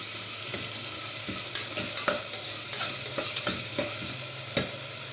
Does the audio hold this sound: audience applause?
no